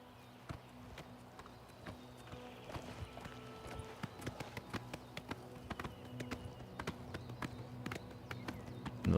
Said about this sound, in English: Now the horse riding does feel really nice.